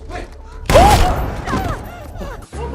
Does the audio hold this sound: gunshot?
yes